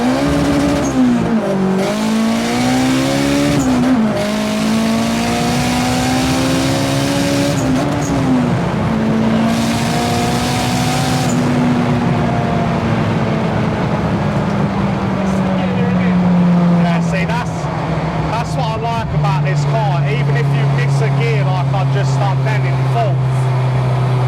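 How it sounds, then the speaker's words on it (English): Honda Civic Type R turbo pulling hard from first gear: loud engine rising in pitch through several gear changes, each shift dropping the note before it climbs again, with a voice talking over it. "I'm gonna go from first gear now."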